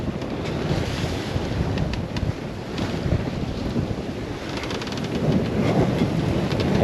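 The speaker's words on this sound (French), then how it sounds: "Il y a 24 nœuds maintenant. Ça déferle." Strong 24-knot wind roars steadily across a sailboat crossing from Morocco to Spain, with breaking waves crashing and washing around the hull, a continuous loud rush that builds toward the end.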